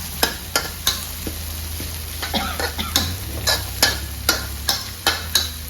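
Garlic stir-fried in a wok, a low sizzle punctuated by rhythmic scraping clacks of a utensil against the pan, roughly two strikes a second, close and without talk.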